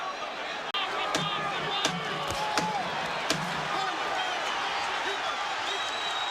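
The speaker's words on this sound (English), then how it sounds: "And the crowd at the Atlantic City Convention Center comes to its feet to applaud that." Boxing crowd at the Atlantic City Convention Center rising to applaud after a heavyweight bout involving Holyfield, a dense, sustained wash of clapping and cheering in a large arena with a few sharp slaps, with commentary heard over it.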